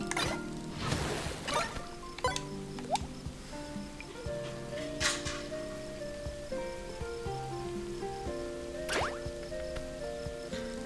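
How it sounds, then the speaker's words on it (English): Rain in the video game Holocure plays as scattered drips and patters over soft lo-fi music with sustained tones, steady and fairly quiet throughout. "And it's raining."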